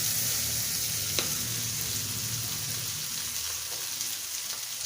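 Rui fish paturi wrapped in bottle gourd leaves frying in mustard oil, giving a steady, close sizzle that runs evenly throughout with one brief tap near the start and no voices.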